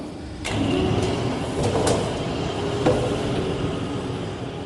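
A RONGWIN panel bender moves an axis under manual hand wheel control: a steady mechanical whirr with a few sharp clicks and knocks scattered through it, close by and without talk.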